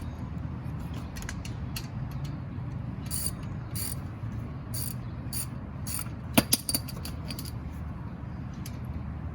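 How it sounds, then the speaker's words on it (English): A ratchet with a size 14 socket tightens a brake bolt on a 2004 Nissan Murano during a brake pad job, with quiet bursts of rapid clicking in short bursts over low background noise. "you want to get your size 14 again. You want to tighten it up now."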